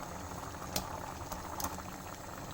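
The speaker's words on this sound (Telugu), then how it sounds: "ఇది ఒక మిక్స్ చేసేసి ఒక ఫైవ్ మినిట్స్ బాయిల్ చేద్దాం" A pot of curry with eggs, spring onions and paneer bubbles steadily at a simmer, with a dense, continuous gurgling and a few sharper pops, heard close and alone.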